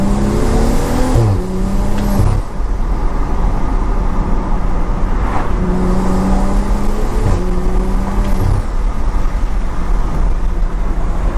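Loud, close revving of a modified BMW F30 335i with a loud exhaust, rising and falling in pitch with occasional sharp pops and bangs, no talking over it.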